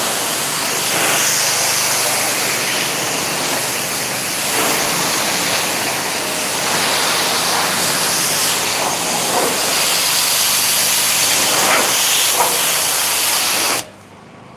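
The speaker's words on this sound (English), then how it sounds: "Now the pressure washer becomes our brush." A pressure washer blasting car wheels in midday sun, a loud, steady close hiss of spraying water lasting many seconds before cutting off abruptly near the end.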